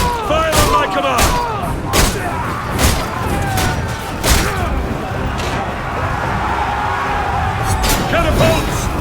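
Catapults fire in a Roman battle in the video game Ryse: Son of Rome, a dense barrage of heavy booms and thuds over a loud, continuous battle din, with shouted voices in the mix.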